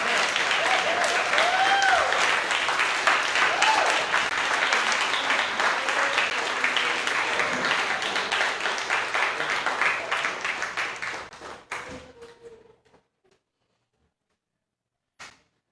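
An audience at a story night event in Bremerton, Washington, claps and snaps for a long stretch, dense and lively at first, then thinning into scattered claps and fading to near silence with a final lone clap.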